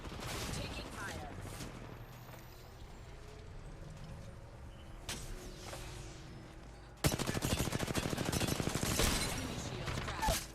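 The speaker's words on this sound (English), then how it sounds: "Taking fire." Gunfire in Apex Legends, with scattered shots early on, then a loud, sustained rapid burst of automatic fire from about the midpoint, while in-game voice lines call out over the action.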